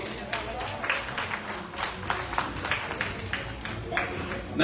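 Audience applause at a recognition event in Delhi: a dense, steady patter of many hands clapping that carries on throughout at a moderate level, with a swell at the very end.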